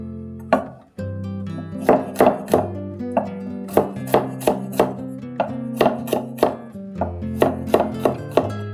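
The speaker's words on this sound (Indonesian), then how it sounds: "kita perkecil terlebih dahulu cabai hijau dan juga bawang-bawangan" Knife chopping green chilies and shallots on a cutting board, a run of sharp, crisp thuds in quick irregular bursts, close and clear with no speech.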